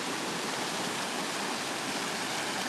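A rushing stream of clear water roars in a steady, loud, close wash of broadband noise, constant throughout with no voices.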